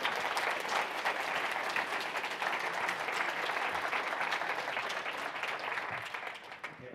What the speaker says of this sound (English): Round of applause for Matthias.